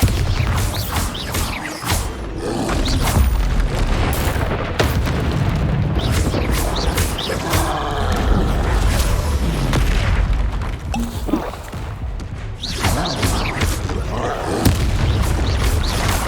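Bombarda spell explosions in Hogwarts Legacy during a troll fight, a dense run of booming blasts and bursts layered with game combat noise and music, loud and continuous, with no speech.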